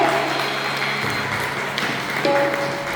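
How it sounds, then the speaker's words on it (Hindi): An audience claps in honour of Teejan Bai at a literary society felicitation in Rajnandgaon, a dense, steady patter of hands lasting the full few seconds. "तो जोरदार तीजन दीदी के लिए हम सब सम्मान के ताली बजाओ"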